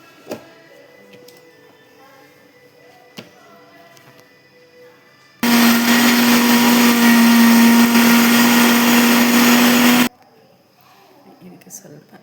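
Mixer grinder blending cooled ingredients in its jar, a loud steady whirring motor that starts abruptly, runs for about five seconds and cuts off, with quiet handling noises before and after.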